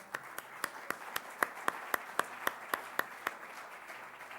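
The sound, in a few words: audience applause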